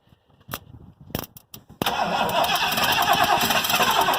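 A few clicks and a short crank, then an old mud truck's engine, choke on, catches and roars into a steady, loud running rumble.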